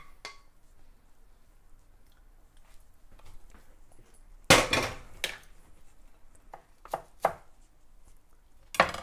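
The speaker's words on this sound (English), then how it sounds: "So I just chopped up a teeny bit of cilantro." A knife chops cilantro on a cutting board: a quiet stretch, then a sharp burst of close, loud chopping strikes followed by a few separate knocks, with no voices.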